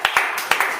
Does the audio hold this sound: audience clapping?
yes